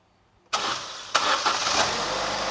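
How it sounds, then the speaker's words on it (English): A 2012 Vauxhall Corsa engine cranks briefly and catches with an abrupt roar, a couple of quick rev surges, then settles into a steady close idle with no talking. "Okay, I will fire up the engine."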